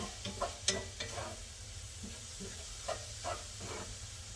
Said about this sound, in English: we're going to stir this up here a little bit